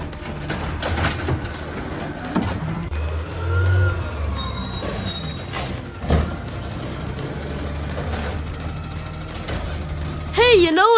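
A garbage truck operates nearby with rumbling engine, hydraulic whines, clanks and hisses of machinery, and a siren-like warble near the end.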